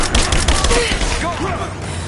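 Rapid gunfire crackles in Rise of the Tomb Raider, a quick flurry of sharp shots up front, followed by brief game voice shouts.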